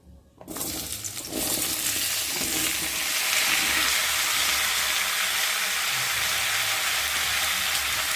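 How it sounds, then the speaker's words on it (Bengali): Pieces of cut yam and potato drop into hot oil, and after a short quiet start a loud, steady sizzle rises and holds evenly to the end. "আর এখন আমি দিয়ে দেবো কেটে রাখা ওল আর আলু, দিয়ে ভালো করে তেলের মধ্যে একটু কষিয়ে নেব।"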